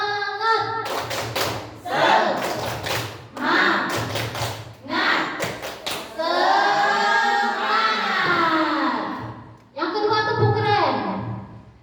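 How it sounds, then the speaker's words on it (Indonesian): A group of teachers performs a rhythmic Indonesian 'tepuk semangat' clapping chant, bursts of patterned claps alternating with loud chanted voices, close and energetic. "Coba tepuk semangat."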